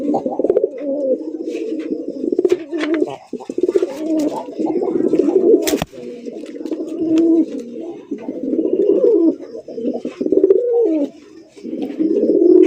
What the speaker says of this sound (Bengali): আরো এক জোড়া গোল্লা কবুতর